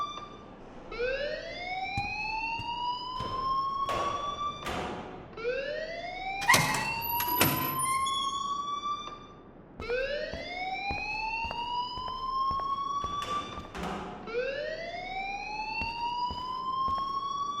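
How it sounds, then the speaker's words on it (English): A fire alarm in the video game Life Is Strange wails in repeated rising electronic sweeps, each cycle climbing in pitch, with sharp clanks and thuds breaking in between the loud, steady siren tones. "please turn off that alarm since that's your job."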